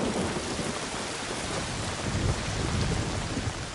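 Heavy warm monsoon rain falls in India, a loud continuous roar of downpour with deep thunder rumbling underneath and rolling again toward the end, alone without any voices.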